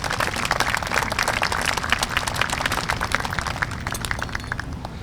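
A graduation audience claps steadily in sustained, dense applause for students at the West Florence High School 2020 commencement, loud and continuous throughout with no voices over it.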